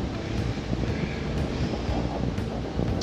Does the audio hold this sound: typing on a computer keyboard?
no